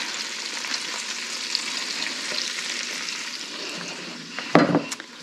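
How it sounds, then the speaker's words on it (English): Chopped leeks frying in melted butter in a pot, a steady close sizzle with a brief clatter and stir near the end. "our butter is nicely melted. We're going to add in our leeks."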